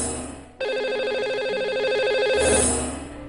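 Telephone ringtone sounds as a call is placed to a lucky caller on a radio show, a loud steady warbling electronic ring lasting about two seconds before cutting off.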